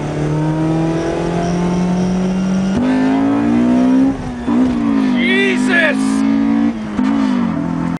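A Satsuma car engine fitted with VTEC in the game My Summer Car holds a loud, steady drone, then revs higher in rising and falling sweeps before settling back, close and continuous throughout.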